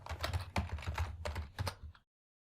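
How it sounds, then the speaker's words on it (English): Quick, soft keystrokes tap out a short burst on a computer keyboard, close up and quiet, then stop abruptly into silence. "Simply we'll type the password"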